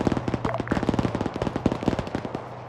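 A .50 cal machine gun in a military video game fires in rapid, evenly spaced bursts of sharp, loud shots, close by and continuing for the whole stretch.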